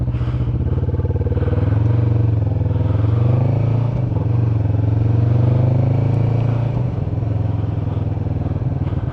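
A Kawasaki motorcycle pulling away and riding gently through town, its engine a close, steady low drone with slight shifts in pitch and no voices.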